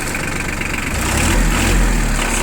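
A PROGRES all-wheel-drive mini tractor's engine idles steadily close by, a continuous low rumble that swells slightly deeper and louder partway through, with no voices.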